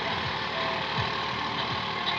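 Swaraj 855 tractor engine labouring under load while driving a rotavator, a steady low diesel drone with a rhythmic throb repeating about every three-quarters of a second, close and continuous.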